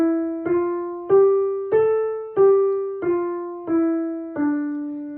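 Piano playing the white keys of a D five-finger position, seven evenly spaced single notes about 0.65 seconds apart, each clear and close with a ringing decay, heard alone.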